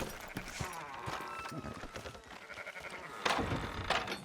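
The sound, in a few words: sheep bleating in Red Dead Redemption 2 video game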